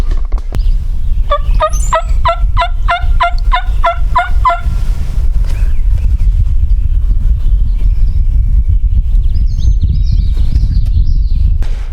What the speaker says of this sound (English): I just heard this bird gobble again.